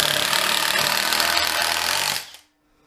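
A cloned Makita impact driver drives screws that tend to go in crooked, giving a loud, continuous rattling hammer for about two seconds before cutting off abruptly into silence.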